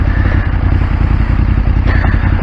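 An adventure motorcycle, a BMW F850GS or Aprilia Tuareg 660, rumbles along a gravel trail in Spain with the engine ticking over, a loud, steady low throb with continuous clatter and no talk.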